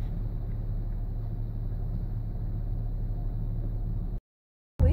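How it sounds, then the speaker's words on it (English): A truck rumbles past on a road in heavy traffic, a steady low engine drone with road hiss that holds level before cutting out abruptly, followed by a short loud bump. "Oh, here's one truck."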